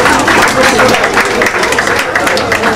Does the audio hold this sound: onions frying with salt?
no